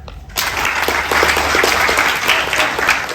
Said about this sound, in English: I think another round of applause for those students